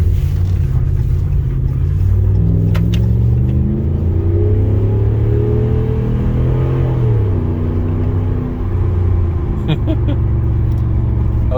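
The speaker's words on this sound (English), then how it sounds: "I was like half throttle and it still picked up so good" A car accelerates hard at half throttle, its engine loud and close as the pitch climbs steadily through the gears, with people talking over the rising roar.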